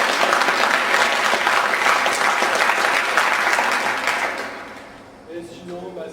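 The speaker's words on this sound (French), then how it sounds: "Applaudissez pour tout ça." Hearty audience applause at an anime convention, a thick sustained crowd clapping that gradually tapers off, after which a voice starts speaking.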